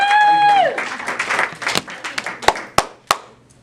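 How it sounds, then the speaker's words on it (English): Audience applause at a leadership training session starts after a brief held tone and a spoken word. Scattered claps follow, then a few sharp, isolated claps close it out. "Give you a round of applause."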